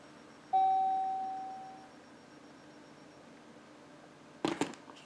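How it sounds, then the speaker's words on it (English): A KitchenAid KEK1322SS electric glass tea kettle, 1.5 L stainless steel, chimes once as it is lifted off its base: a single clear electronic tone that fades slowly, later followed by a brief clatter. "it'll make a chime when you take it off the base"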